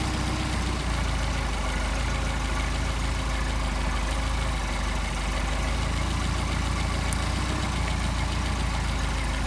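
A Mercedes 190SL engine with Solex carburetors runs at a steady idle while being adjusted, a continuous low throbbing hum under a broad hiss with no speech.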